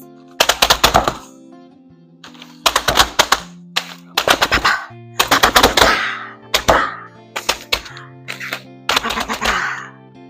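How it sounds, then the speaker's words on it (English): Strawberries chopped inside a bag, bursts of rapid thudding knife strikes in clusters separated by short pauses, loud and close, with a steady tonal hum beneath. "I could leave them in the bag and chop them up like this"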